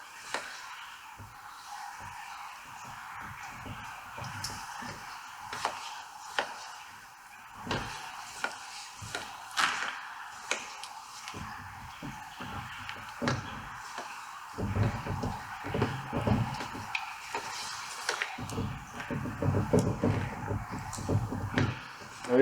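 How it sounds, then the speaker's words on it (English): Stirring GRP topcoat resin mixed with solvent and wax solution in a tin: irregular scraping and knocking strokes of the stirrer against the tin, close and moderately loud over a quiet background. "So we're going to give it a stir for half a minute."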